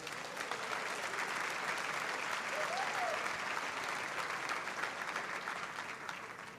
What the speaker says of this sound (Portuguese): Dê um aplauso ao Messias.